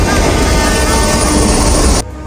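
Train in an Indian action film rumbling past loudly with a dense, steady roar of wheels and carriages, cutting off abruptly near the end.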